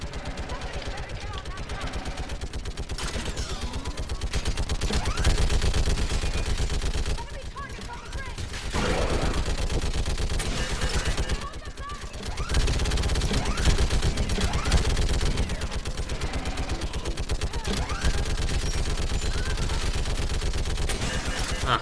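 Sustained mounted gun fire in Mass Effect 3 during a Reaper assault on Thessia, a dense continuous rattle of shots across the whole stretch with brief dips, with game voices and talk over it.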